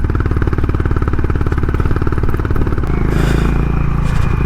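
A Honda Highness motorcycle engine thrums loud and close while riding a rough mountain road in Spiti Valley, its steady rapid firing mixed with clattering and scraping from the bumpy ground, with no pause.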